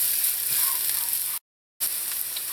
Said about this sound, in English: you want to saute the onions just until they start to turn translucent